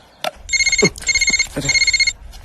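Telephone ringing after a call is placed, three bright electronic trill bursts in quick succession, loud and close, with short thuds and a brief voice-like sound around them.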